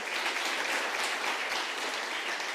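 Audience applause at a women's empowerment summit, a steady dense wash of many hands clapping without pause for a couple of seconds at moderate level, no voices on top.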